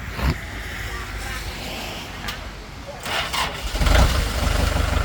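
Used Kubota L4508 DI four-cylinder diesel tractor on a dealer's lot cranks and catches near the end, then settles into a chugging idle, while someone talks over it.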